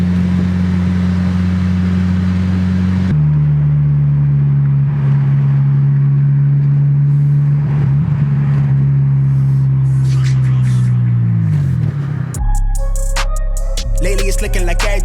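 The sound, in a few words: car engine running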